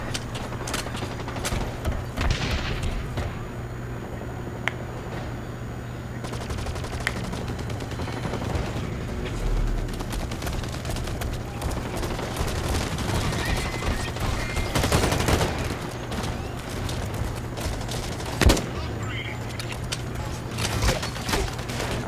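Constant gunfire in the first-person shooter video game BlackLight, dense automatic bursts and single shots overlapping throughout with a few sharper loud cracks, with a voice speaking now and then.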